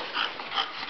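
A dog gives a couple of soft, high whimpering whines in quick succession, close but quiet, with no talking over them.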